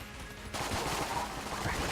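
Rapid bursts of gunfire from the bullet-hell video game Enter the Gungeon, a dense fusillade of shots that starts suddenly and keeps up loudly without any talk.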